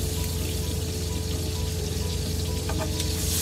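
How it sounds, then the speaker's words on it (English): Steak fries in butter in a pan inside a truck, giving a dense, steady, close sizzle that runs unbroken throughout. "I've cooked that down in the butter side of that pan the whole time"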